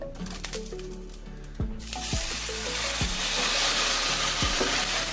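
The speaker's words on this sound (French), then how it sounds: "on va les balancer directement dans la poêle dans laquelle il y a le gras des lardons" Pasta dropped into a hot pan of bacon fat sets off a sudden loud, steady sizzle that follows a few clinks and stays dense and close to the end.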